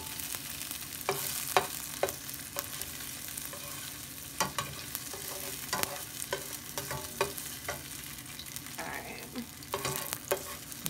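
Meat sizzling in a skillet, a steady fry hiss broken by repeated sharp scrapes and clacks as it is stirred and moved around, close and fairly loud, with no talking.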